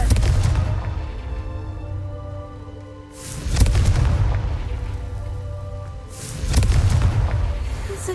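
Three heavy blasts from the Confringo fire spell in Hogwarts Legacy, each a deep booming burst that swells and trails off, spaced about three seconds apart over a low rumbling background.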